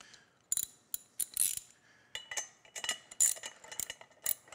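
Bolts on a pivoting base for an upright post are tightened in a cross pattern, making a run of close, sharp metallic ratcheting clicks in short irregular bursts with brief pauses between them.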